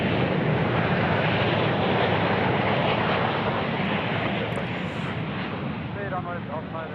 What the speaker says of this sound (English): Jetstar just coming in to land.